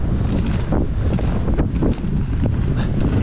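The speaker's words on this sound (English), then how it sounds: "we've got a bit of a wind" Steady wind buffets the microphone outdoors near water and boats, a loud continuous roar with gusty swells throughout, no voices.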